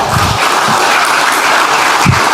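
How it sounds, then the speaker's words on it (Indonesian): Applause from an audience at a political speech event, a steady wash of clapping at high level, broken by a few low thumps near the microphone. "Tepuk tangan lagi."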